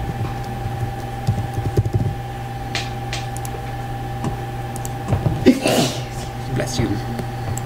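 A single sharp sneeze bursts out amid background noise and a steady hum, with some muffled talking and clatter around it.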